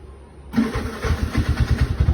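A car engine cranks and catches after a short quiet lead-in, then runs with a steady rough throb close by, without speech.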